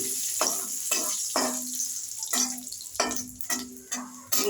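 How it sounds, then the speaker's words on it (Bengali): Cumin seeds and bay leaf sizzling in hot oil, a close crackling hiss broken by repeated scraping stirs of a spoon in the pan in a loose, uneven rhythm. "এবার ওই তেলের মধ্যে আমি জিরে ও তেজপাতা ফোড়ন দেব।"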